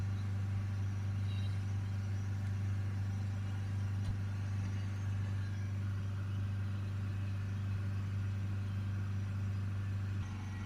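A Volvo XC90 2.4 D5 diesel, with a blocked DPF and low turbo pressure, runs at a steady held throttle: a constant, loud, droning engine note that holds level for the whole stretch with no talk.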